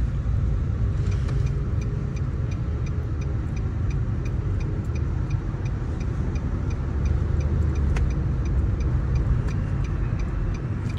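Car being parked, its engine idling steadily up close with a regular ticking, likely the turn signal, running throughout.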